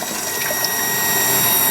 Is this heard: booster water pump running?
yes